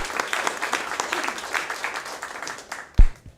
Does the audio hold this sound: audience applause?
yes